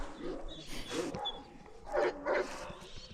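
A large male livestock guardian puppy gives a few short barks and whimpers, close to the microphone, with a soft voice heard faintly between them.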